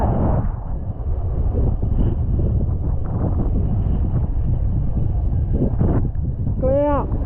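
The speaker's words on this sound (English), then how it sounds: "There's your back wind. You've got your back wind now." Strong wind hitting the microphone on a winter walk along the Viking Way between storms: continuous heavy buffeting roar throughout, with a voice briefly speaking near the end.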